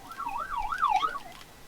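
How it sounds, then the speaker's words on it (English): A police siren wails, rising and falling in smooth, repeating sweeps, moderately loud against a quiet background. "I don't know if y'all heard the police sirens."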